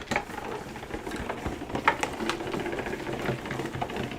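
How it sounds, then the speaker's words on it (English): Paper frame going through a die cutting machine for a handmade card, a faint, continuous mechanical rattle and crunch with small clicks, heard close and without talk. "So let's go ahead and die cut this frame, and then we'll emboss our vellum."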